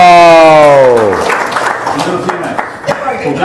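After a long falling vocal exclamation, an audience breaks into scattered, moderately loud clapping and crowd noise, with voices continuing underneath.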